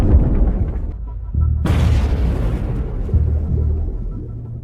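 A HIMARS rocket strike on a Russian Grad launcher in a convoy lands with a sudden sharp blast that rolls into a low rumble, set against a background of muffled booms and no speech.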